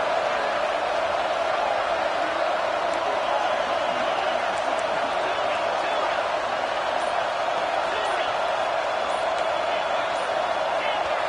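Steady roar of a packed stadium crowd at a football game as the defense takes the field, a dense continuous wash of noise with a commentator talking over it.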